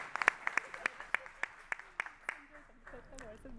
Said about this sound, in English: So please give her a big applause.